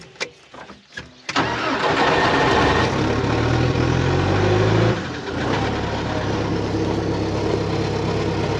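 A water pump's engine is cranked over with a few quick sputters, catches and roars up loudly, then settles into a steady, close running drone with a brief dip in the middle.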